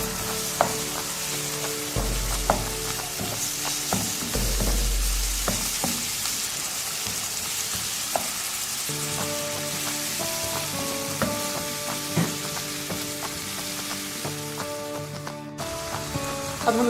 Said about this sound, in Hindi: अब इनको अच्छी तरह से मिक्स कर लेते हैं।